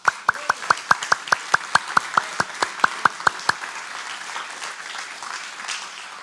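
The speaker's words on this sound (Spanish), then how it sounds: "Dele palmas a Cristo." A church congregation claps together in a quick, even rhythm, about sixteen sharp unison claps in a row, then the beat stops and only a faint room murmur is left.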